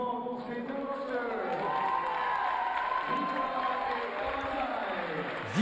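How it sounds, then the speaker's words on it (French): A crowd at a Swiss championship boxing match applauds and cheers the two boxers after the fight, a sustained roar of clapping and shouts at moderate distance, with a commentator talking over it. "Encore de nombreux applaudissements pour ces deux boxeurs."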